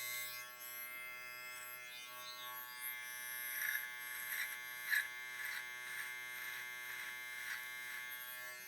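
A cordless USB rechargeable trimmer from an 11-in-1 kit runs on its high setting, giving a steady, fairly quiet buzzing whine with slight pulsing swells as it is moved.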